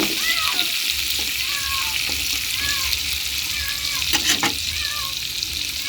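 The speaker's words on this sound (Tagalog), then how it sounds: "Ipiprito lang ng kaunti pa." Pork steak meat frying in a pan: a steady, loud, close sizzle throughout, with occasional stirring knocks and brief faint tonal chirps, no clear talk over it.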